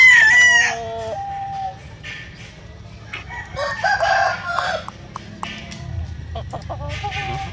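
Asil gamefowl roosters on a farm where fighting cocks are bred: a loud, close crow rings out at the start, followed by scattered clucks and further crowing from several birds across the yard.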